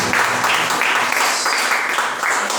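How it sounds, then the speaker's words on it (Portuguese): Church congregation clapping together during a worship service, a dense, loud burst of applause sustained throughout with rhythmic swells, heard alone without speech. "Palmas no Senhor Jesus"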